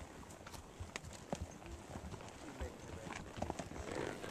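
Horse hooves clip-clop steadily on a trail ride through pine country, a loose, uneven walking rhythm close by amid rustling outdoor noise, with a few brief sharper hoof knocks.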